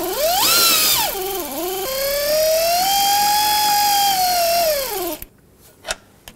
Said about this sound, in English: I have my air ratchet on the top bolt.